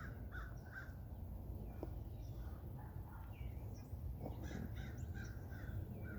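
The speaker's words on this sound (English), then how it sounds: "I'm trying to see if that was a crow over there." Distant crow caws outdoors, several short harsh calls repeated over a few seconds against a steady low background hum, faint and far off.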